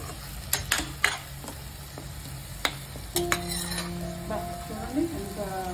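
Drumsticks stirred into a simmering mutton curry in a pot, with a spoon clinking against the metal a few times over low sizzling, then a steadier bubbling fry.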